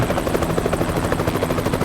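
A helicopter flies close overhead in Euro Truck Simulator 2, its rotor chopping in a loud, fast, steady throb.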